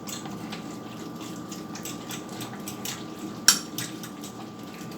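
Eggs and sliced potatoes for a Spanish tortilla with onion are mixed in a bowl, giving soft, steady scraping and stirring at close range, with one sharp clack of the utensil against the bowl partway through.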